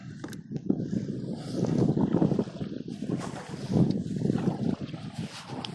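Water sloshing and splashing from kayak paddle strokes, with wind buffeting the microphone in uneven gusts; no voices.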